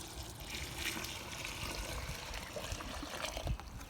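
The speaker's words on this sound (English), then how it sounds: "So I'm gonna go ahead and dump the water in." Water dumped into a high-fiber livestock feed mix: a continuous pouring and splashing rush, close and fairly loud, lasting the whole few seconds.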